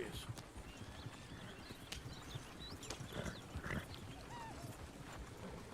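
In Red Dead Redemption 2, horse hooves clip-clop softly at an easy pace, with faint chirping birds and ambient background sound throughout.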